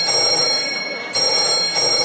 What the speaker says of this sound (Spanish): suena el teléfono, me asusto siempre